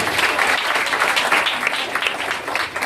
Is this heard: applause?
yes